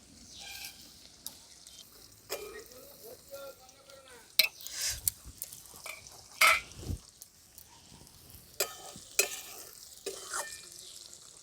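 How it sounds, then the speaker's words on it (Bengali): Paneer pieces fry in a pan with a faint sizzle, broken by clinks and scrapes of a utensil stirring and turning them at irregular intervals. "বাকি পনিরগুলোকেও আমি ওই একই রকমভাবে ভেজে নিচ্ছি।"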